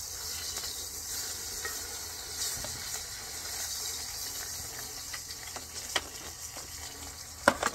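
Dried fish frying in oil outdoors, a steady faint sizzle and hiss with a few sharper pops and taps toward the end.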